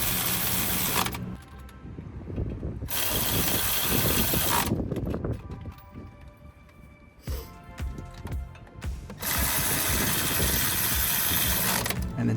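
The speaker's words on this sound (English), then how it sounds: "Go ahead and put our 3 15mm bolts back in. We'll go ahead and tighten them up here." A ratchet tightening three 15mm hub assembly bolts on a 2007-2013 Chevrolet Silverado, heard as close, loud bursts of rapid clicking separated by quieter pauses filled with metallic handling.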